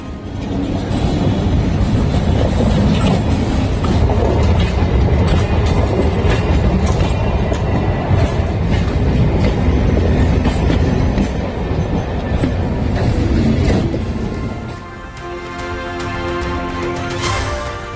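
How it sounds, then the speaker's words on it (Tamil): An elevated suburban train on a test run between Velachery and Parangimalai in Chennai rumbles past close by with a loud, continuous roar and rhythmic clickety-clack of wheels, easing slightly near the end. "சென்னை வேளச்சேரி பரங்கிமலை இடையே நடைபெற்ற பறக்கும் ரயில் சோதனை."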